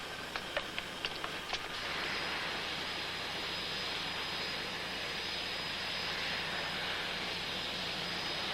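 A jet airliner on Flight 892 to London roars steadily as it departs, a loud continuous broadband engine rush filling the whole clip after a few brief clicks at the start.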